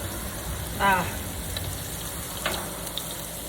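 Potato crisps sizzling on a Blackstone griddle as they are flipped, a low steady frying hiss with a brief voice and a few light scraping taps from the spatula.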